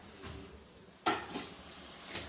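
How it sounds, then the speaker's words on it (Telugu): A lid is set down on a pan of cabbage fry: a sudden metallic clank, then a quiet clatter and a low sizzle over soft kitchen background, with a few light knocks after. "మూత పెట్టేద్దాం ఒక 2 నిమిషాలు"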